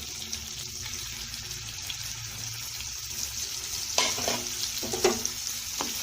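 Mango pulp goes into chillies frying in ghee, a constant sizzle broken by a few louder splashes and stirring scrapes near the end, close and with no voices.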